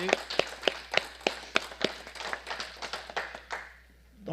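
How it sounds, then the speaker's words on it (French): People at a town council meeting applaud a councillor who is retiring after a long career. The clapping comes from a small, scattered group, with a few sharp claps up close, and thins out over about four seconds. "je pense qu'une main d'applaudissement s'impose"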